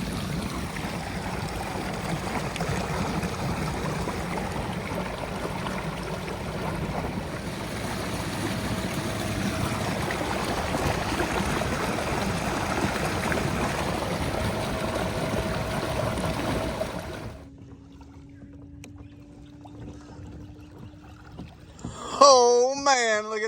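An Old Sportsman 120 PDL kayak driven by a Newport Vessels NK300 electric motor across open water: a steady rushing wash of water and hull noise for most of the run, then a sudden drop to a quieter, thinner hum near the end.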